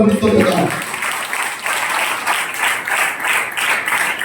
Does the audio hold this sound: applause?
yes